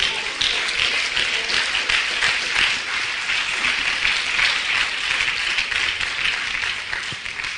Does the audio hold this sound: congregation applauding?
yes